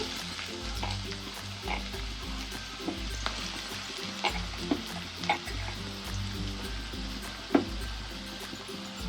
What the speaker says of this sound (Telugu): దీంట్లోకి 2 పెద్ద సైజు కట్ చేసుకుని ఉల్లిపాయ ముక్కలు వేసుకుందాం.